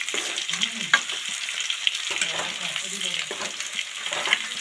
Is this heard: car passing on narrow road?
no